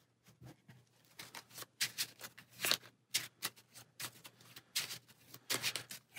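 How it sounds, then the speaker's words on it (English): A deck of cards is shuffled during a solo card game, giving a quiet, rapid patter of riffling cards in repeated bursts, close and alone. "Shuffle our deck."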